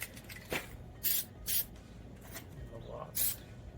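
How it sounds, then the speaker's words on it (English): A second coat of spray paint goes onto a part during a Suzuki Samurai restoration, heard as four or five short, hissing bursts from a spray can close by, with a quiet voice in the background. "I'm going to paint this other one. And I'm going to hit this with a second coat."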